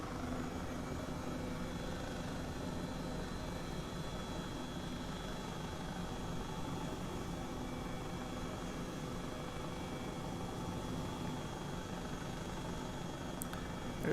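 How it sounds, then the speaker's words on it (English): Steady, faint helicopter rotor and engine drone from Microsoft Flight Simulator, a continuous even hum with no pauses and no voices. "There's a helicopter."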